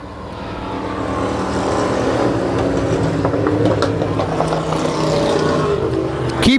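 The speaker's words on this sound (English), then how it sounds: "Looks like he's picking up some speed in that modified style 1935 Ford Coupe." Vintage race cars, among them a modified 1935 Ford Coupe and a 1956 Chevy, roar around a track, engines building to a loud sustained drone as they pass close by.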